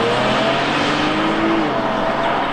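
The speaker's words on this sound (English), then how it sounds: "it sounds to me like it's a little bit sort of thinner and higher revving than what I'm used to from an SV6" Engine of a 2018 Holden Commodore VXR with an all-wheel-drive V6, heard as a loud, steady, close-up drone with a thin, higher-pitched edge that holds for the whole short stretch with no talking.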